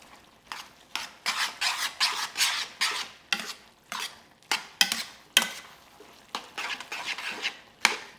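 Pasta being stirred through a sausage ragù in a hot pan over high heat, a utensil scraping and clacking against the pan in steady repeated strokes with a faint sizzle underneath, close and fairly loud.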